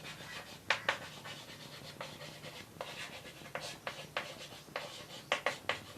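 Chalk or marker writing on a classroom board during a maths lesson, with a series of short scratchy strokes in irregular rhythm, close and fairly faint, against quiet room noise.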